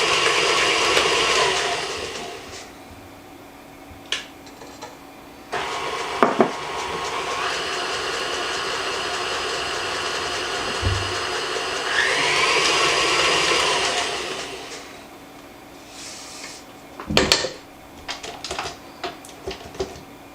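An electric mixer beats eggs into a butter and sugar batter for an apple tea ring, whirring steadily in bursts with pauses and changes in pitch. Occasional clanks and scrapes against the bowl break in between runs.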